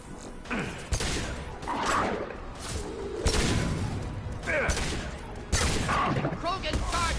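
Gunfire from the video game Mass Effect 2, sharp shots scattered through a busy battle mix of impacts and effects.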